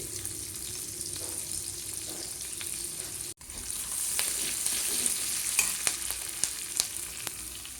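Chopped onion fries with cumin in a hot pan for a Rajasthani gawar phali sabzi, a steady close sizzle broken by scraping stir clicks, one brief dropout, then brighter crackling.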